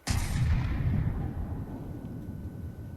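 Heavy cannon in From the Depths booms at once, its sharp blast rolling into a loud low rumble that fades slowly over a few seconds, alone without talk.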